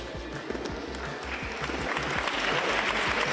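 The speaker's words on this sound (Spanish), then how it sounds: "La ovación de todos los presentes y la foto para el recuerdo" Spectators applaud the winners of an amateur mixed pelota tournament at a San Mateo grape-harvest festival, a moderate crowd ovation with rhythmic low thumps underneath.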